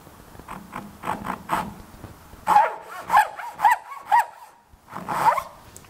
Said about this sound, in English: place the heel of the saw on the shoulder line, pull it across, and continue cutting down to the line